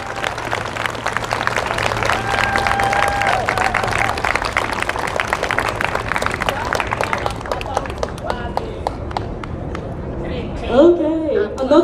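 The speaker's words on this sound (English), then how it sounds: "another round of applause for that wonderful" Applause and cheering from a large crowd at an outdoor Stop Asian Hate rally in Seattle, sustained and dense for most of the stretch, then thinning out as a voice speaks over the fading claps near the end.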